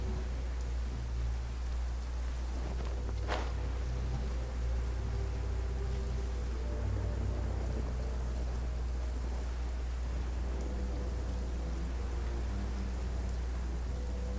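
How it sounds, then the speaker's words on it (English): Heavy thundering rain in Genshin Impact, set in Inazuma, forms a steady, faint wash of hiss over a low rumble that runs unbroken throughout, with one brief brighter tick near the start and no talking. "No one can hear my gliding in the thundering rain."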